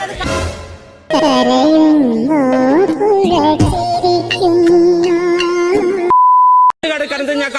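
Alarm sounding in the Bigg Boss house, where a single steady electronic beep rings out briefly and alone near the end, after loud melodic voices and music.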